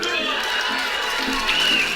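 A studio audience cheers and whoops for contestants writing facts on a comedy panel show, a dense, steady roar of crowd noise with talk mixed in.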